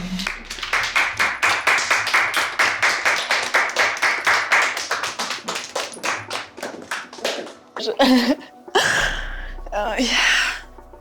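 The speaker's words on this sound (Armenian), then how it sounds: "Ծափարենք Էլենին։" An audience applauds for Elen on a stage show: steady, rapid clapping from many hands near and loud for about seven seconds, fading out, followed by a few gasps and other voices.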